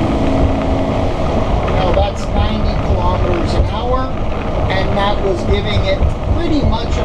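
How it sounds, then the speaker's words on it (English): A 2020 Georgetown gas motorhome accelerates at full throttle, its engine drone loud and continuous from inside the cab, with road and wind noise and people talking over it. "pretty much about full throttle so that you could really hear the acceleration noise"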